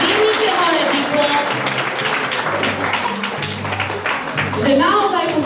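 Applause at a school ceremony welcoming new first-grade pupils at ZŠ Komenského in Bardejov, a steady round of many hands clapping in a hall, with voices mixed in throughout.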